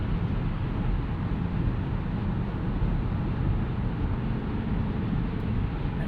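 Steady broadband road roar at highway speed from inside a 2025 Mazda CX-50 Hybrid on Goodyear tires, with noise from a Ram truck driving just ahead; a constant, even rumble with no pauses.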